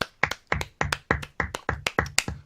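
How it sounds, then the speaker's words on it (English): A group in a room claps along in a brisk, even rhythm of sharp hand strikes, roughly eight evenly spaced beats, close and moderately loud, with no talking. "Everybody clap at Phyllis."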